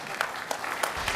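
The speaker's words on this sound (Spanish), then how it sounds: "Un fuerte aplauso al pastor Polanco" Steady applause from a church congregation welcoming a pastor, dense clapping throughout the brief moment with no voices standing out.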